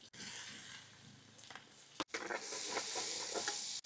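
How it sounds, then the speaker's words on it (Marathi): Chopped onion with whole spices and chopped chilli sizzles in a pan for mushroom masala, a soft close hiss broken by a short cut, then brighter crackling sizzle with stirring scrapes. "कांदा हलका ब्राऊन होईस्तोवर आपण परतून घेऊ।"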